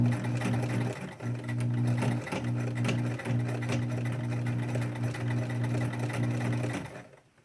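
A sewing machine stitches through several layers of a cloth face mask, its steady motor hum running loud and close with short pauses near one and two seconds, then stopping just before the end.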